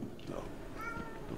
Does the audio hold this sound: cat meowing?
yes